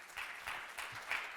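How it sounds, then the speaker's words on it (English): Applause from a tech conference audience, a steady wash of clapping with a few louder swells, moderately distant and with no voices over it. "Please applause for her."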